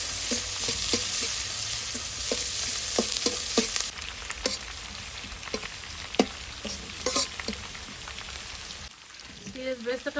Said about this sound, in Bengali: আর দিয়ে দিচ্ছি একটু সরিষার তেল, দিয়ে দিলাম পেঁয়াজ কুচি